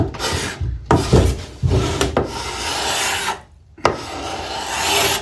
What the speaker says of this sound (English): I'm gonna sit here and scrape this. It's got quite a bit of varnish on it